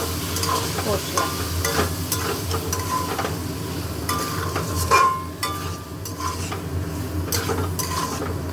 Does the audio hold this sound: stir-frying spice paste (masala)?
yes